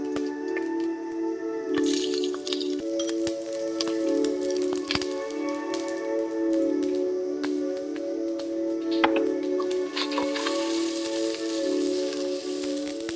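Onions sizzling and crackling in a hot pan as the base for a Malvani mutton curry, a steady soft frying hiss with scattered pops and drips, close and continuous, no voices.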